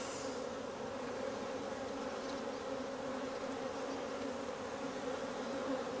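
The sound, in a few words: honeybees buzzing at an open hive during inspection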